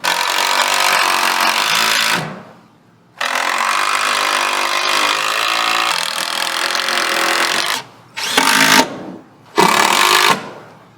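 A handheld power drill works on chassis boards during a DIY camper photo booth rebuild. It runs in a long loud whine of about two seconds, then a longer stretch, then two short bursts, with brief quiet gaps between them.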